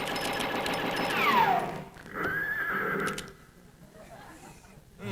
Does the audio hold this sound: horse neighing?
yes